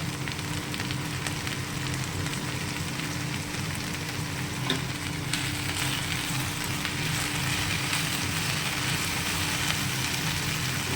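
Okra and potato pieces fry in an oiled pan, making a dense, even sizzle that holds steady throughout, close and unbroken, with no speech.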